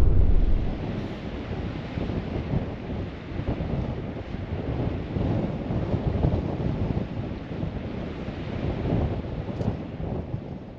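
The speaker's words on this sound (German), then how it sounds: "Aber hier pfeift ein Wind, dass sogar die Kamera auf dem Stativ wackelt." Strong wind whistles and buffets a microphone on Iceland's north coast, a loud, steady roar with gusty swells lasting the whole stretch, with no voices.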